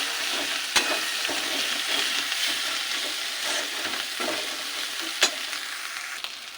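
Chicken frying in a pan as turmeric and cumin powder are mixed in, giving a steady broadband sizzle with a few sharp utensil clicks from stirring, close and continuous with no talking.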